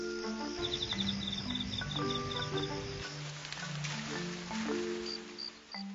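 A pet cricket of the kind kept for fighting chirps in quick repeated trills, close and clear against a quiet room, with a few short pauses between bursts.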